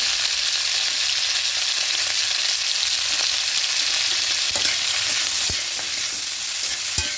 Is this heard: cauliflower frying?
yes